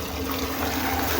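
Clean water flushes steadily through the radiator of a Caterpillar bulldozer, a continuous rushing, trickling flow that stays even and close throughout, with no voices.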